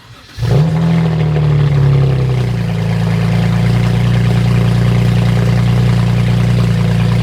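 A catless BMW E92 335i cold-starts with a sharp crank and flare, then settles into a loud, steady, droning idle that continues unbroken.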